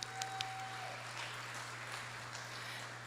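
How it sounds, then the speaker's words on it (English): Faint, distant applause from an audience at an 8th grade completion ceremony, a soft continuous patter of clapping under a steady low hum. "Let's give her a round of applause."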